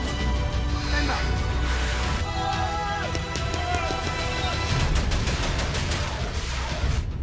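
Rapid bursts of gunfire crackle loudly and continuously after a shouted command to fire, with overlapping shots and a dense, noisy backdrop that stays busy throughout.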